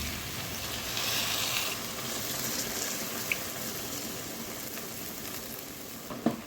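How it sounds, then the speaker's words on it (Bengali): Spice paste frying in a pan, a soft steady sizzle with a faint bubbling hiss, punctuated by a couple of brief clinks of a spoon toward the end. "মশলাটা ভাজাই আছে সুন্দর করে আরও দু এক মিনিট ভাজা নিছি"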